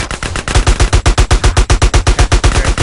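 Rapid automatic gunfire in GTA: San Andreas Multiplayer: a loud, close, unbroken string of sharp shots at a fast, even rate, with no talk over it.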